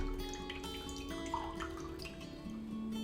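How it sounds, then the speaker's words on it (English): Liquor trickles from a tap fitted to a watermelon keg, a faint, close stream of pouring and dripping liquid, with no voices. "So if you need to pour it out faster, you could tilt it."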